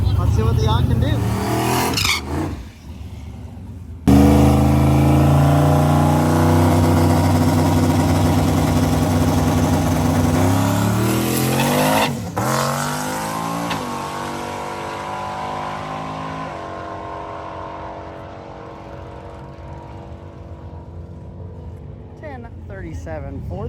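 A Pro Street drag car called the Yacht launches down a quarter-mile strip at a race week event. The engine roars loud and close, its pitch climbs through rapid gear changes, then fades into the distance while an announcer talks over it.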